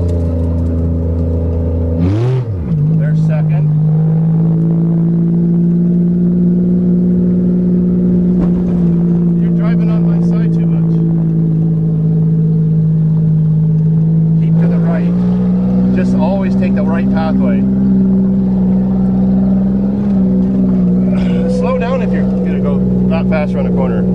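Inside a manual Toyota Camry, the engine drones steadily in second gear with a brief rev near the start, while people talk throughout over the constant hum.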